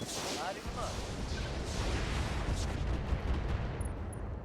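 MRM missiles launched by a mech in the RogueTech mod for BattleTech, a dense, continuous roar of rapid firing and blasts that rumbles steadily for the whole stretch.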